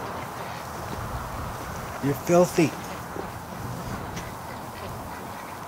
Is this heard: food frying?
no